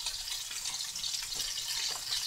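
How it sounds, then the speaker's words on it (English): Water is poured from a cup into a simmering tomato curry sauce with chicken drumsticks, giving a soft, continuous trickling hiss at low volume with no talking. "I'm going to add a little bit of water"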